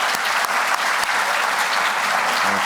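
Dense, loud applause from an audience at an exoneree event fills the space, a continuous wash of many hands clapping for students, with no voices over it.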